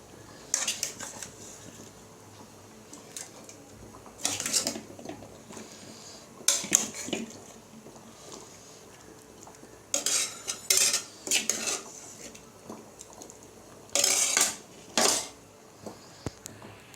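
A metal spatula scrapes a pan in short clattering bursts while spicy Chettinad brinjal fry is moved into another bowl, the loud clinks and scrapes separated by quieter pauses.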